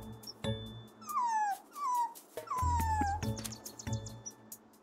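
Dog whimpering in the video game It's Paper Guy: several high, falling whines and short yips, fairly faint over a quiet background.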